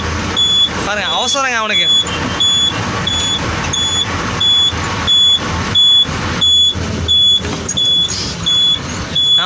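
A lorry loaded with onions drives through Coimbatore streets with a steady, loud engine rumble and a regularly repeating high beep, while people talk over it throughout.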